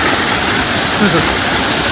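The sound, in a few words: large waterfall roaring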